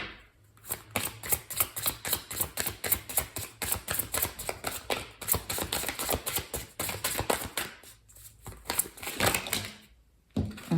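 Tarot cards shuffled and drawn make rapid, dense riffling flutters and slaps, continuous and close, with a couple of brief pauses near the end.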